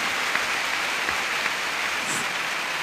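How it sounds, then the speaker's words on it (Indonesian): Audience applause at a gathering, a dense, steady patter of many hands clapping continuously without a break, evenly loud throughout. "Tepuk tangan dulu"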